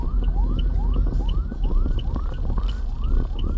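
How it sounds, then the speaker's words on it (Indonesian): An ambulance siren wails, rising and falling in quick repeated sweeps, steady and fairly loud, with traffic rumble underneath. "ambulan"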